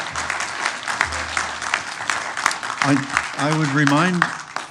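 Audience at a town council meeting clapping after a delegation's remarks, a moderate burst of applause that gives way to a person speaking near the end.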